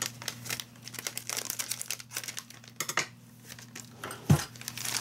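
Scissors cut open a gift package at a desk, with crinkling, tearing plastic or paper snips close by at a steady pace and a sharper clunk near the end.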